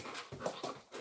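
A dog pants in quick, close breaths mixed with soft whimpers, a short burst heard alone at close range.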